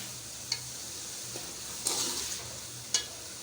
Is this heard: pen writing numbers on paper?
no